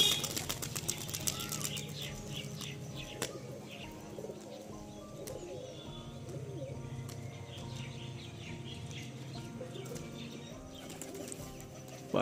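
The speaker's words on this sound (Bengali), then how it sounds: "পায়রা বাজি মারতে মারতে উপরে উঠে গেল।" Pigeons with leg feathers beat their wings as they rise into the air, a fluttery flapping mixed with soft cooing and chirps over a faint background murmur.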